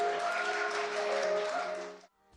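A studio audience applauds to celebrate a singer's wedding, a dense, loud burst of clapping that holds steady for about two seconds, then cuts off abruptly into near silence.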